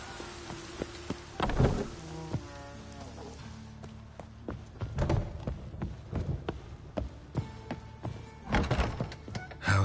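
Game rain and thunder in The Witcher 3: a steady patter of rain with several dull thunderous booms and thumps rolling in, quiet overall, with soft musical tones underneath.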